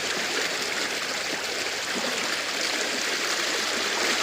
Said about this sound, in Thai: น้ำแรงไหม ดูเองครับ